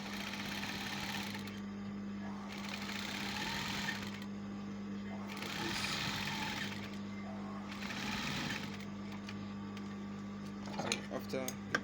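A sewing machine runs steadily, stitching down fabric with a continuous mechanical whir and hum, while a person talks over it throughout.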